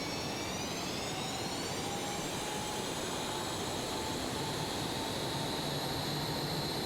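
Steady, loud roar of an F/A-18C jet engine in Microsoft Flight Simulator, a continuous broadband rush with high whining tones that slowly drift in pitch throughout, with no voices.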